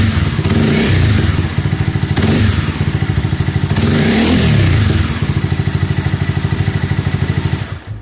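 A motorcycle exhaust fitted with two sound-reducing caps runs close up, a loud steady rapid thumping idle with a couple of brief rev swells and slight rattling.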